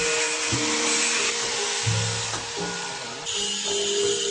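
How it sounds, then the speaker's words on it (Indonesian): A hand grinder runs steadily and close up while it shapes fine details on a keris blade, a continuous high whine with slight shifts in pitch as it bites into the metal. "Pembuatan detail rincian seperti sogokan dan pejitan dengan menggunakan pahat ataupun juga gerinda tangan."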